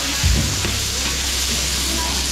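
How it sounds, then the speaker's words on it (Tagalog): Carrots and potatoes fry in hot oil with a steady, close sizzle and crackle, plus a few stirring clunks near the start. "piprituin na natin yung Gulay mga Beli. Carrots, saka patatas."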